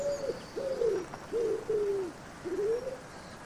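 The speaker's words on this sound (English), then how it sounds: "The wood pigeon is the largest of this group of birds." Wood pigeon, a large heavily built bird with white neck patches, giving a series of soft, hollow coos in short phrases with brief gaps, fairly close and clear over a quiet background.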